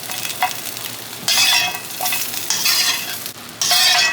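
Fried chicken pieces are tipped into a pot of Kabuli pulao and stirred. The scraping, rustling stirs come in several bursts over a low sizzle, close and loud, and no one speaks.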